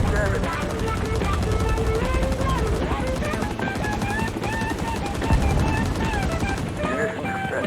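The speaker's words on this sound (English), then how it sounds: "Okay, we're taking fire." Sustained automatic gunfire from a firefight in the Vietnam War video game Rising Storm 2: Vietnam, with dense rapid bursts layered over one another, loud and continuous, with radio voices talking over the shooting.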